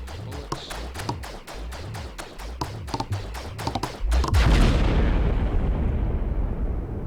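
Rapid gunfire in the space combat game Angular Velocity, a fast rhythmic string of sharp bursts that ends in a loud explosive roar fading out.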